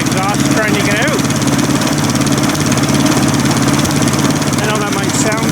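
Small rebuilt engine with freshly replaced oil rings and a sharply bent exhaust pipe running at a steady idle, a close, continuous chugging drone with faint voices under it.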